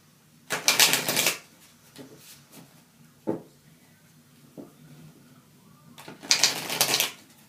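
A deck of tarot cards is riffled in two longer bursts at the start and end, with scattered quieter taps and card handling in between, close and fairly quiet, with no talking.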